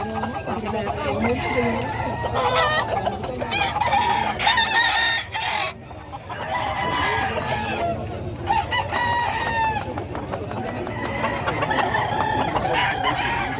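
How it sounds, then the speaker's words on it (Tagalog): Chickens cluck busily throughout while a rooster crows, with people talking in the background of a noisy, crowded poultry area. "Bebentahan ng mga manok."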